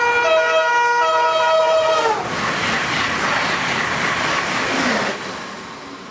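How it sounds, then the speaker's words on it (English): An Amtrak Avelia high-speed train horn blares in alternating high and low notes, like a siren, then fades into a broad rushing roar of the passing train. "The Avelia's horns, however, sound like this."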